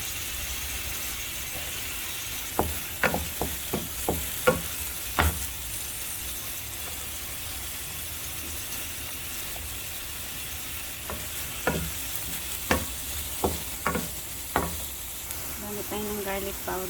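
Small pieces of ginger sizzle steadily in a little hot oil in a pan while cooking milkfish sisig, with a constant frying hiss broken by sharp scraping and clinking stirs of a utensil against the pan.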